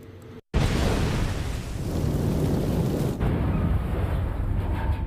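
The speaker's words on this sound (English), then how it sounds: "It was an enormous explosion." A huge torpedo explosion tears into a ship and sets off its cordite magazine, a deep, loud, sustained roar and rumble that starts abruptly after a short silence and keeps booming on with no pause.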